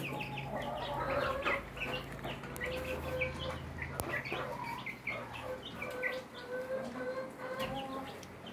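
Rhode Island Red chicks about ten days old, a brooder full of soft, scattered peeps and cheeps overlapping continuously, moderately close under a low background hum.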